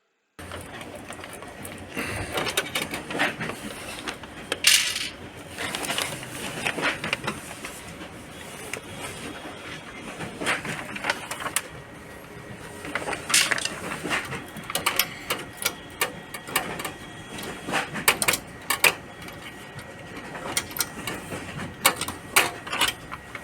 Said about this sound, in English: So just open this one and take out this process unit out.